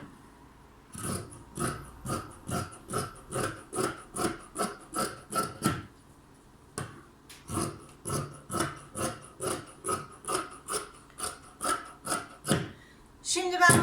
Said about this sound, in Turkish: Hemen bandımı kesiyorum.